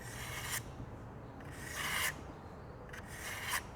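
Kitchen knife drawn through the final burr-cleaning slot of a manual knife sharpener, three separate raspy scraping strokes at roughly even intervals, close and crisp over quiet room background, no speech.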